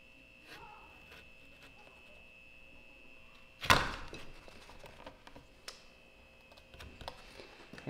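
A cutter slices through a strap on a DIY wooden camping chair, one sharp loud snip followed by small scattered clicks and handling noises, close and quiet overall.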